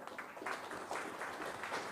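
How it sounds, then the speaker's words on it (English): Summit audience applauding at a maritime regional conference, a faint, steady round of clapping heard distantly through a remote feed, with no voices over it. "I think there is a huge round of applause here."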